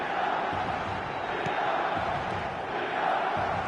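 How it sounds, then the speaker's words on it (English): Stadium crowd in the football video game eFootball, a steady, moderate roar of many voices with a dull murmuring texture, continuous and somewhat distant, without clear peaks of cheering. "the crowd have tried to spark some excitement, but to no avail."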